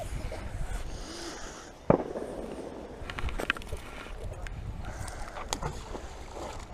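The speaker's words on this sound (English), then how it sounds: "There's gunshots you can hear in the background." Distant gunshots from a large shooting range behind a riverbank, a few faint cracks at irregular intervals with one sharper report standing out over outdoor wind and ambient noise.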